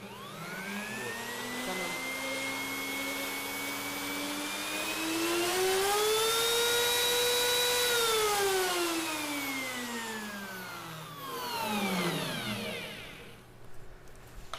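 A Bosch POF 1200 AE electric wood router runs with a steady, high-pitched motor whine, its pitch climbing and then falling back as the speed is adjusted, with no voices.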